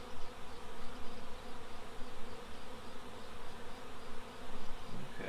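Dense buzzing of honey bees at close range at the hive, a continuous droning hum that swells and dips in gentle waves.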